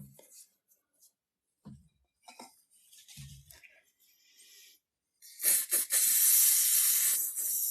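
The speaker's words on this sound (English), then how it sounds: "this is just hairspray from the discount store, but it makes a good semi-permanent glue" A can of discount-store hairspray is sprayed as a semi-permanent glue onto a low-relief Bag End scenery model, giving a loud, steady aerosol hiss for a couple of seconds after some faint, scattered handling clinks and taps.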